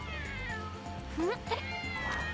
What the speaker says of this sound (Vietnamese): Xem ra con mèo đen này là mẹ của chúng.